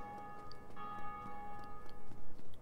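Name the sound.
bells ringing in Dark Souls video game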